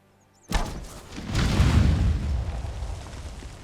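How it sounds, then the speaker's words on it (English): Massive video game explosion from roughly 75 bombs going off at once during a clan raid: a sharp onset after brief silence, then a heavy rumbling boom that swells and rolls on for several seconds, loud and alone. "That was about a 75 bomb explosion right there."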